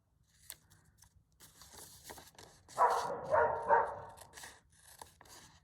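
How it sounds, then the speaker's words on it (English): Dogs bark a few times at a distance, short muffled yaps clustered together in an otherwise quiet room with small handling noises. "Oh, those dogs."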